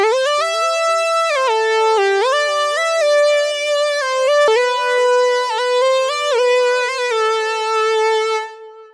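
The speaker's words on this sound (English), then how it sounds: "a sort of analog Moog inspired lead synth" A bright, buzzy analog-style synth lead plays a continuous gliding melody, loud and upfront with no other sounds, cutting off abruptly at the end.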